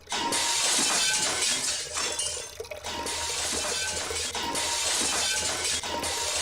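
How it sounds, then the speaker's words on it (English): A glass tank in the video game Sound of Drop cracks and shatters, with bright glassy crackling and tinkling fragments over a dense, continuous wash of noise, and a few heavier breaking bursts along the way. "the tank behind me also cracks"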